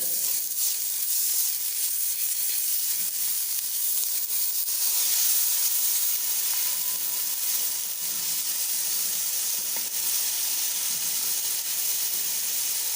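Ginger and garlic paste sizzles steadily in a hot pan, a continuous bright hiss and crackle of frying that holds fairly even throughout with no talking.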